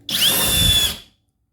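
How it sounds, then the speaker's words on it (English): A Flex impact driver spins a T30 screw in a single loud, high-pitched whirring burst of about one second, heard up close and then cut off abruptly. "I think that if you get the right tool for the job, which would be this flex impact"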